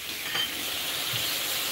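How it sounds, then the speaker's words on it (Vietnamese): Squid fries in a pan with a steady, close sizzle and faint stirring, a continuous hiss holding at an even level throughout. "Nấu mực ăn nha."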